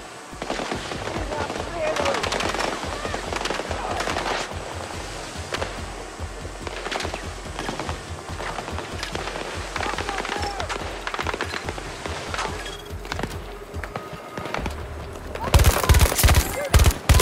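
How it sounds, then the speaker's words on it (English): Dense automatic gunfire and bursts of shooting in a Battlefield 2042 Tactical Conquest match, loud and continuous with a sharper, louder volley near the end, while a player's voice talks over the combat. "They're shooting at me!"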